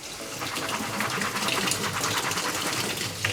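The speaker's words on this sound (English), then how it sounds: "let's rinse it a little bit" Raw walnuts rinsed under a running tap, a steady close gush of water splashing over the nuts for a few seconds, with no talking.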